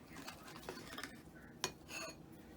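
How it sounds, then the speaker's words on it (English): A ladle scoops cupcake batter into big muffin tins, giving soft scraping and a few light metallic clinks against the pans, with one sharper clack near the middle; fairly quiet and close, with no talking. "Okay, I'm going to take the ladle now."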